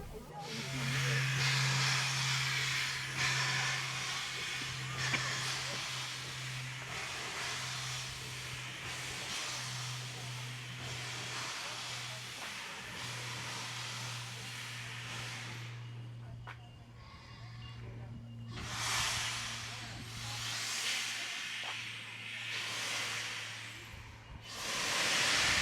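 Steam tank engine being uncoupled and moving off toward a water tower on a New South Wales railway, hissing steam loudly and steadily for most of the stretch, with a low steady hum beneath and a few separate bursts of hiss near the end.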